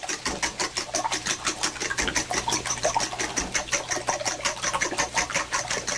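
A fork beats eggs in a pan on lowered heat, making a fast, steady, rhythmic tapping and scraping that is close and unbroken, with no speech.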